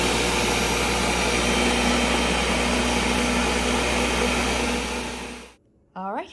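A kitchen blender whirring steadily while blending basil pesto sauce, a loud, constant motor drone that cuts off abruptly near the end, followed by a brief rattle.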